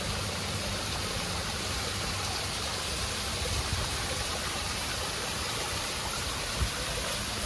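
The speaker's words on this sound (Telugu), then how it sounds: "చూద్దాము ఇక్కడ ఎలా ఉందో వాటర్ ఫాల్" A small waterfall and stream in the hills of Chikmagalur, Karnataka, rush nearby as a loud, unbroken wash of flowing water that holds steady throughout with no voices over it.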